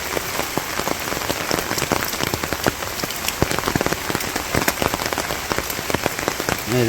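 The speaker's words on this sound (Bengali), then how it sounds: "বৃষ্টির মধ্যে হাঁটাহাঁটি করতে ভালোই লাগে" Steady rain falls in a village during a storm, a dense, continuous patter with sharper individual drops hitting nearby surfaces throughout.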